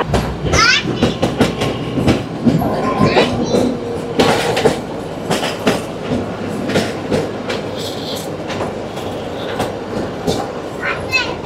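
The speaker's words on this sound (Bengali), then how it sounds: "থামবে না আমাদের ট্রেন।" The Kalka–Shimla toy train, the Him Darshan Express on a narrow-gauge hill railway, rolls through a station without stopping, with loud rhythmic wheel clatter, some squealing and the steady rumble of the carriages heard from on board.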